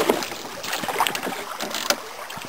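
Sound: boat cruising on water

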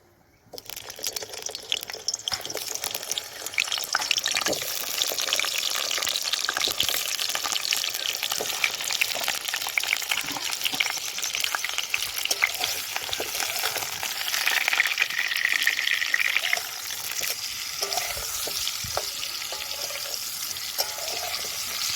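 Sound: potatoes frying in hot oil in a wok

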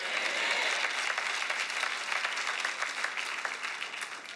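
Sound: congregation clapping hands

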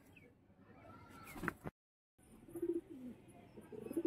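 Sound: pigeon cooing

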